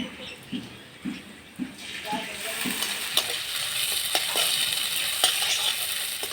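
Gobindobhog rice frying with chopped garlic in a pan over a clay village stove, a soft steady sizzle with scraping and stirring clicks from a utensil, close and moderately loud throughout.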